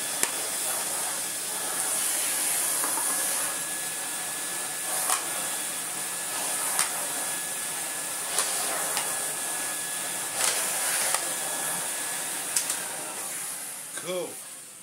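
A Miele S312i vacuum cleaner fitted with a straight suction head runs with a steady, loud hiss throughout, broken by several short bumps and knocks as the head is moved about.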